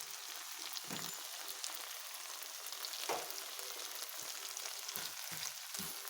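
Peppers and mung beans fry in a pan, giving off a steady, soft sizzle throughout, with several dull scraping knocks as the mixture is stirred.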